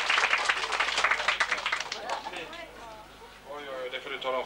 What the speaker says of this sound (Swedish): Om du niger så får du en jättefin applåd